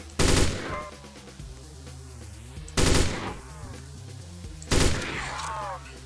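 Three loud, close bursts of gunfire about two seconds apart, each a short rattling blast with a ringing tail, from a Roblox zombie video game, over steady game background noise.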